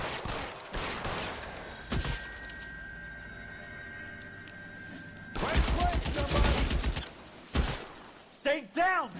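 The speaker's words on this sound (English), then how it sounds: "Tommy gun." Tommy gun fire in the video game L.A. Noire, bursts of rapid automatic shots at the start and again midway, with loud crashing impacts and a voice speaking over part of it.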